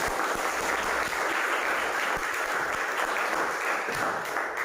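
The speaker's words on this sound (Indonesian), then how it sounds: "Kasih tepuk tangan." A classroom of students clapping together after a pupil's answer, dense steady applause sustained at even loudness throughout.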